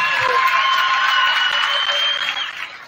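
A crowd claps and cheers for a senior player at a high school boys' varsity basketball game, the broad ovation loud and steady with a few whoops before it begins to fade.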